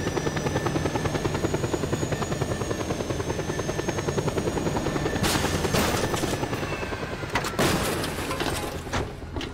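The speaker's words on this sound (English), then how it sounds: "What happens if I park a chopper on a slanted roof?" A helicopter in the video game Just Cause 2 thrums steadily with a close, loud rotor chop and engine whine throughout, briefly broken by a couple of sharp impacts near the end.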